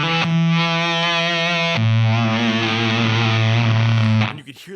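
An electric guitar through a Seeker Lineage Supa Fuzz pedal plays thick, sustained fuzzed notes that swell, shifting to a lower held note midway before cutting off, loud and saturated with a dense buzzing tone.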